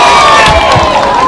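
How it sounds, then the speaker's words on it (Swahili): A rally crowd in Kibra, Kenya, cheers and applauds loudly for Rosie, a burst of close, dense clapping and shouting. "Makofi kwa Rosie."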